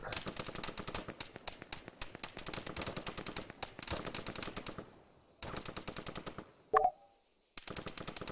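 Machine gun fire in the video game Arma 3 rattles in long rapid bursts, loud and close, broken by brief pauses and a single sharp crack.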